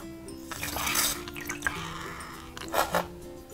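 A squeezed bath squirter toy drips and squirts water, giving irregular splashy spurts and droplets at close range, with a couple of stronger bursts near the end.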